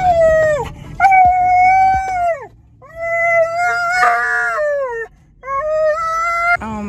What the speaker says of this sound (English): we got all the dogs together